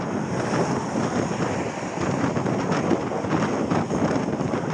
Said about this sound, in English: We've got a headwind here